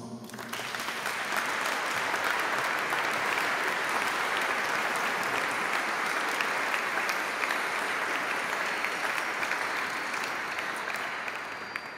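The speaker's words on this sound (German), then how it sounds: "Einen Applaus." An audience at a church concert applauds a singer, a dense sustained clapping that swells quickly, holds steady for several seconds and tapers slightly at the end.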